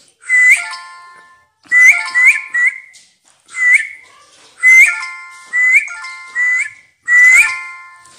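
Short rising whistles from one person, about nine in a row at an irregular pace, each one clear and loud against silence, used to set off a phone-finder alarm.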